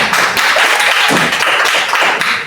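Classroom applause for the first student group, a dense steady burst of many hands clapping together, loud and close, with no talk over it.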